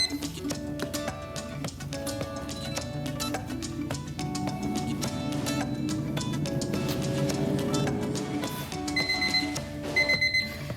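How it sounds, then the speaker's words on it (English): A kitchen timer goes off beside an air fryer cooking meatballs, a rapid run of repeated electronic beeps that keeps pulsing for several seconds at moderate volume, with no voices. "Second timer just went off, so they just cooked for 4 more minutes"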